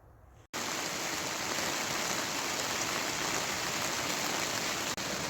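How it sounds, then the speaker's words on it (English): Steady rain pours down beside a river at a campsite, a dense even hiss that starts abruptly and stays loud and unbroken, with no voices. "here comes the rain again"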